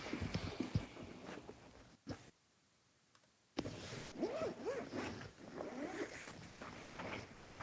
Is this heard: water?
no